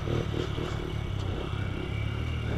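Honda TRX90 ATV engine running close by ahead of a wheelie, a loud steady putter with slight pulsing revs and some rattling clatter throughout, no talking.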